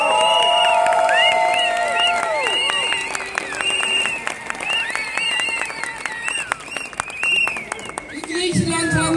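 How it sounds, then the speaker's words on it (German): Crowd at a Berlin street demonstration against TTIP breaks into applause and cheering, a dense, sustained wash of clapping and shouts with whistles, mixed under amplified speech and music from a stage. "Gebt ihnen einen großen Applaus."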